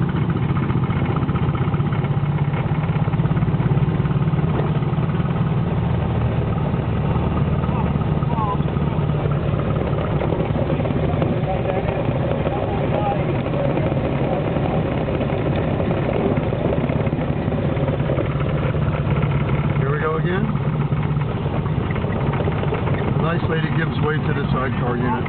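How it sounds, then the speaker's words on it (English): A large engine idles with a deep, steady rumble close by on a narrow motor-racing track, continuous throughout, with faint background sounds of other vehicles and activity. "Listen to that massive engine."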